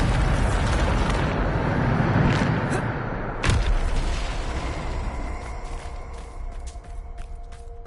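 A Bombarda blasting spell explodes in Hogwarts Legacy with a loud, rumbling burst, followed by a sharp crack and debris settling as the roar fades over several seconds.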